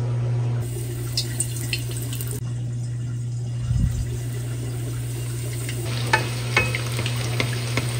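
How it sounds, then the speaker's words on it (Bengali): Food sizzles steadily in a hot pan at home at night, with a few clinks and scrapes of stirring rising above the constant frying hiss. "এবার আমি ভাজা শুরু করব।"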